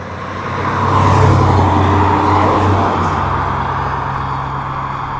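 A car passing nearby on a road, its engine rumble swelling to a peak around the middle and then slowly fading, with steady low traffic hum throughout.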